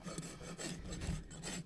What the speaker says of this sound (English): Then I'll come underneath and just take the burr off.